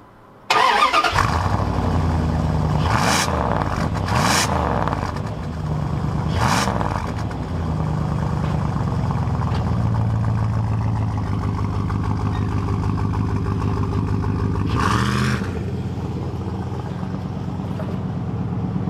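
A car on a test drive after wheel hub and brake repair, its engine starting and then running with revs rising and falling, loud and close, with a few sharp bursts of noise along the way.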